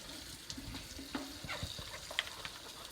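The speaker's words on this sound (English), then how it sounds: "we'll start getting our berries washed" Tap water running over strawberries being washed in a sink, with soft splashing and light clatter as the berries are turned by hand.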